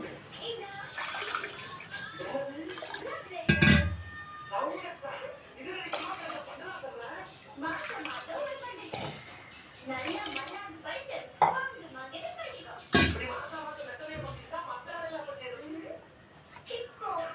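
Water poured into a cooking pot for vegetable biryani, splashing and gurgling in bursts beneath a person talking steadily throughout.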